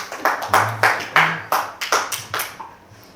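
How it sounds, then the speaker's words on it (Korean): A handful of people clap in a Christmas worship service held with children, giving about ten distinct, fairly close claps in a loose rhythm that trails off after roughly two and a half seconds. "와, 우리 박수 한번 해주시죠"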